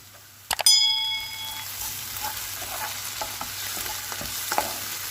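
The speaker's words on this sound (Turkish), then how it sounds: "salça kokusu gidene kadar kavuruyorum" Pepper and tomato paste sautéed in a pan, opening with a couple of sharp metallic clinks and a ringing tone, then soft sizzling and intermittent stirring scrapes nearby.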